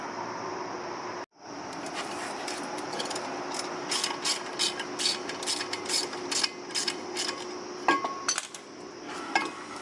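Rapid ratcheting clicks come in bursts from a 3/8-inch drive ratchet turning a T50 Torx bit on a bolt on a Mini Cooper R56 trailing arm, close and crisp after a brief pause early on.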